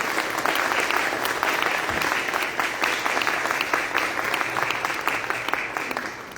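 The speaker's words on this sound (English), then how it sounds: "I'd like to give them a nice warm round of applause and welcome to the United States" A concert audience gives warm, sustained applause as instrumentalists come on stage, a dense steady wash of many hands clapping that holds loud and even for several seconds before easing slightly at the end.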